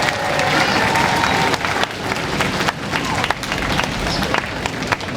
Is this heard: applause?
yes